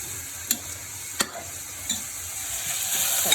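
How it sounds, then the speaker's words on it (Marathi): Dry fruits roasting in a pan while being stirred, with a few sharp spoon scrapes and knocks against the pan over a steady soft sizzle, close and fairly quiet. "ड्रायफ्रूट्स वगैरे मी रोस्ट करून ॲड करणार आहे ह्याच्यामध्ये"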